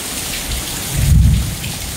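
A heavy thunderstorm in Lufkin, Texas, with hard rain pouring steadily near a metal porch. A deep roll of thunder swells in the middle and then fades back into the rain.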